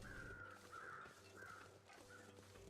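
Crows caw repeatedly in the video game The Long Dark, several harsh calls in a loose rhythm over a low ambient wind bed, fairly distant and without talk.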